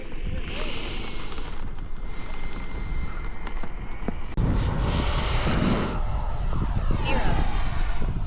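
Freewing F-22A Raptor 90mm electric RC jet taking off in high winds, a steady loud ducted-fan whine and rushing roar that swells as it climbs, with heavy wind noise throughout.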